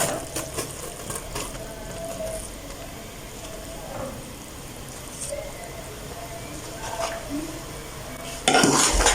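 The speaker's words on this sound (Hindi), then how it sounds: "इसको हम मिक्स कर देते हैं" Rice being mixed into a pot for mutanjan sweet rice, a continuous stirring scrape with occasional clinks of a spoon against the pot and a light sizzle, ending in a louder clatter.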